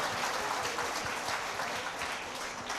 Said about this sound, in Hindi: एक बार जोरदार तालियों से आप इस संध्या का आगाज कीजिए।